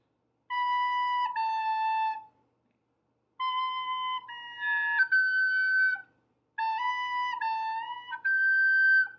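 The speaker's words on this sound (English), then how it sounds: "So if you hear your recorder sounding like that, you have some leaks" A recorder with a tiny air leak plays three short phrases separated by pauses, its tone breaking into shrill, unstable squeaks and jumps between pitches.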